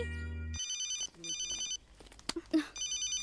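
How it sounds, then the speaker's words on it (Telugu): A mobile phone ringtone chirps in repeating electronic bursts in an indoor film scene, briefly interrupted by a voice and small handling noises before the ringing resumes. "అది నా ఫోన్"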